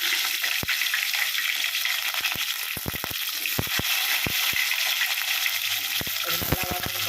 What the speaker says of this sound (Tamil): வெங்காயம் போட்டு தக்காளி போட்டு வதக்கு